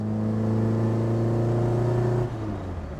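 A tuned Lada Zhiguli with an ITB injection engine pulls hard under acceleration, a loud, close, steady harmonic engine drone holding high before the pitch drops sharply as the throttle eases near the end, no voices.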